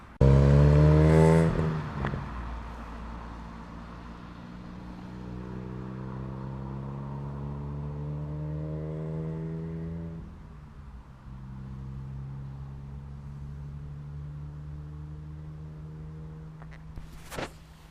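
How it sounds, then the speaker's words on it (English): A Ford Fiesta ST drives past on a road, opening with a loud close burst of engine noise, then a sustained engine drone with rising and falling gear tones that fades off as it moves away. "That Fiesta's ST came back."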